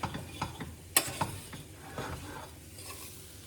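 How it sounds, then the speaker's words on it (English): Eggs being stirred in a pan with a spatula while making a steak burrito, giving soft scraping and clicking strokes with a light sizzle, one sharp knock near the middle, close up with no talking. "Give my eggs one more stir."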